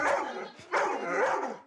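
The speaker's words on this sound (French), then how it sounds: "il peut peut-être se manifester parce qu'il a entendu des chiens aboyer" Dogs in a TV studio bark and yip in a couple of excited bursts, close and fairly loud, with whiny tonal edges and no talk over them.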